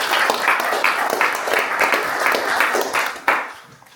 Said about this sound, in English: one more round of applause for Tom and Amelia